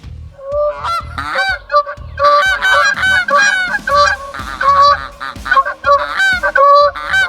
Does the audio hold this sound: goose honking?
yes